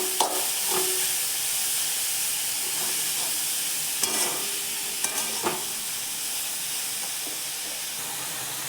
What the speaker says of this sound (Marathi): आता आपण याच्यात खिसून घेतलेले बीट टाकणार आहोत. हे चांगलं परतायचे आपल्याला बघा.